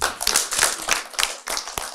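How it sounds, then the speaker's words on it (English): A small audience gathered for a group discussion claps for a couple of seconds, loose, uneven handclaps from a few people nearby, with sharp single claps in an irregular rhythm. "we should clap for her too."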